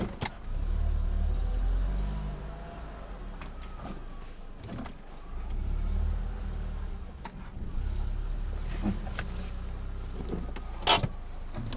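A Volkswagen rolls forward slowly at one or two miles an hour, heard from inside as a low engine and road rumble with faint mechanical clicks and a brief sharp knock near the end.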